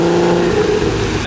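Engine of a Volkswagen Golf R32 Mk4 at a car park meet of modified cars, a steady loud mid-pitched drone that swells slightly as it revs, close by and without talk.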